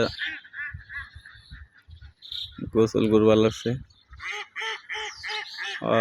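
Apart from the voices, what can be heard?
ducks quacking and honking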